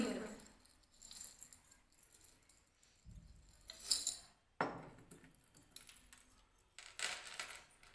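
Small zinc metal pieces clink and jangle as they are handled before going into sulfuric acid, with a few scattered metallic taps and rattles over several seconds amid quiet background noise.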